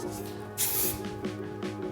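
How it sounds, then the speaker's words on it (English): Flexible-air hair spray released from a can during hairstyling, one short, loud, bright hiss lasting about half a second, followed by fainter rustling of hair being smoothed. "I'm gonna use some of our flexible air spray to help control some of these flyaways"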